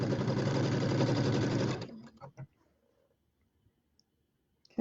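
A sewing machine runs steadily for under two seconds, stitching a quilt border with a rapid mechanical chatter, then stops. A few soft handling clicks and near silence follow, with a brief knock at the very end.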